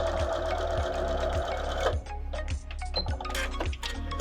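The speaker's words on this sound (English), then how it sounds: "Raw edges of the fabric aligned with the edge of our 1/4 inch foot. And stitch." A sewing machine runs steadily while stitching fabric strips with a 1/4 inch foot, a fast mechanical whir with a regular thumping pulse, loud and close, with a brief slowdown midway.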